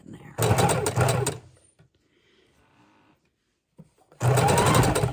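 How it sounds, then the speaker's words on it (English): A sewing machine stitches fabric scraps in two loud, fast, steady bursts, with a quiet pause between them. It is close by and sounds alone. "you can pop this right back under the sewing machine"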